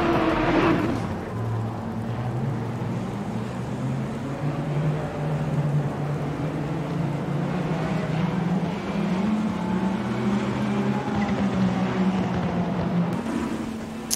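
A Barwell Motorsport Lamborghini GT race car in Assetto Corsa Competizione drives on a wet track, its engine droning steadily with shifting pitch over a continuous wash of spray and road noise, fairly loud and without talk.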